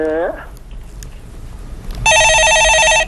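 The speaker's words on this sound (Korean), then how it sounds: "예, 전화 받아보겠습니다." An incoming call sets off a loud, steady electronic telephone ring close by, following a short stretch of voice and quiet room noise.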